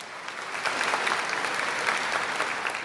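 Enthusiastic applause from a crowd, a dense sustained clatter of clapping that builds quickly and holds steady for a few seconds.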